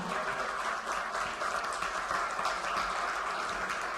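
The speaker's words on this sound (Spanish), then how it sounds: "les damos un aplauso a los que han hecho el esfuerzo de venir desde Holanda" Faint, steady applause from a church congregation at an event in Brussels, a soft continuous patter of many hands heard from some distance.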